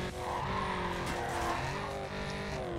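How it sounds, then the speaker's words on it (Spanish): Engine revving with sustained tire squeal as a car drifts through a corner in the racing video game Need for Speed Carbon, loud and steady throughout with no talk. "Mientras estás derrapando, no estás acelerando."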